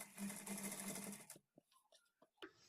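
A sewing machine runs steadily for over a second while stitching a saree fall, then stops, leaving a few faint clicks and handling noises close by.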